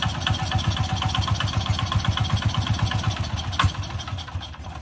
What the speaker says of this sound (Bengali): ছাক ছাক ছাক ছাক করে শব্দ করছে